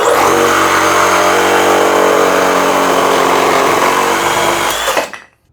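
A cordless reciprocating saw on a 1.7 Ah battery cuts steadily with a loud, harsh whining buzz that holds for about five seconds, then winds down quickly to silence once the trigger is released.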